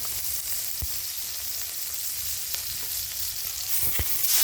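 Pounded chili and garlic frying in a smoking-hot pan give a steady, dense sizzle that holds level throughout, broken by a few low thumps as the pan or ingredients shift, with no talking.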